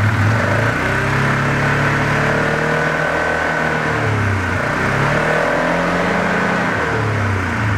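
The engine of a 2017 Polaris Sportsman 570 EFI ATV revs steadily up and down at close range. The loud, continuous mid-pitched drone rises and falls several times with no talking.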